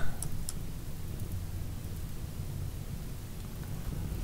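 Rain falls steadily with low thunder rumbling underneath in a colony-building video game, a quiet, even wash of noise with no voices.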